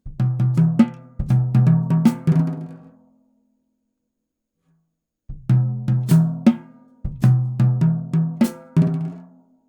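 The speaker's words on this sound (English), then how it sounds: "we can orchestrate around the drums to go up the drums" A jazz drum kit plays a melodic solo that walks up and down the toms: resonant, pitched drum strokes in two short, busy phrases, separated by a few seconds of silence, close and loud with no voices.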